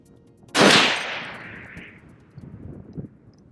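A single booming shot from a Barrett M107A1 .50 caliber rifle, fired at long range toward a target a mile off, with a sharp loud blast that rolls into a fading echo, then faint distant rumble.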